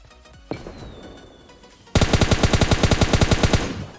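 Automatic rifle fire in PUBG Mobile Lite from a house across the way, loud and close: a sustained burst of roughly fifteen rapid evenly spaced shots after a quieter stretch with a single sharp crack.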